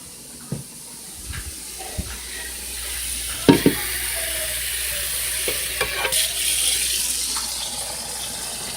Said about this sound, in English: But I'm going to add maybe a little more hot water.